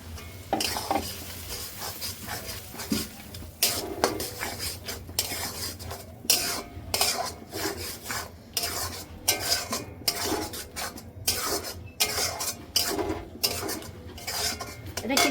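Ground spinach paste is stirred into fried onions and spices for palak paneer, with repeated close scraping and clattering of a spoon against the pot in uneven bursts over a soft sizzle.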